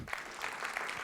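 Brief burst of audience applause at a live event, a steady wash of clapping from a crowd lasting about a second.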